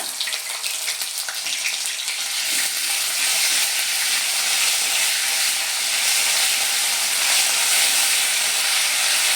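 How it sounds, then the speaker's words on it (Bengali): Ginger paste frying in hot oil for a vegetable dal, a steady close sizzle that holds loud and even throughout with no talk. "আদার যে একটা কাঁচা গন্ধ আছে সেটা যতক্ষণ না চলে যায় আমি এটা আদাটা একটু ভেজে নেব।"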